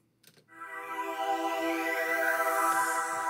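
Synth chords run through Fruity Phaser and a band pass filter swell in after a soft click, then hold as a dense, sweeping sustained pad with a moving phased shimmer, loud and alone.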